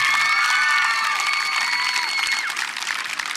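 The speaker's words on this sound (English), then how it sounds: "I think everybody deserves a big hand of applause for that effort." A crowd at a Little League parade cheers and applauds loudly, with whoops and children's high shouts rising over steady clapping that fades slightly toward the end.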